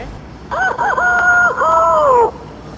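A voice imitating an old rooster crowing: one long, loud, drawn-out crow with a hoarse, wavering tone that breaks briefly midway, heard alone in a quiet room.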